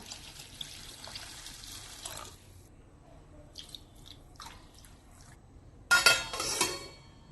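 Water pours into a bowl of flattened rice for soaking in two bursts separated by quiet dripping and faint clinks, the second pour louder and splashier, close by with no talking.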